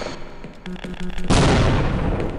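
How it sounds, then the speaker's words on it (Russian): A distant explosion goes off somewhere in a Half-Life mod: faint thumps and pops build up, then a loud broad blast erupts about halfway through and roars on as a sustained rumble. "Где-то что-то взрывается."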